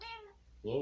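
A pet cat gives a short, fairly quiet meow indoors, then a brief voiced sound follows, with a single spoken word from a person nearby.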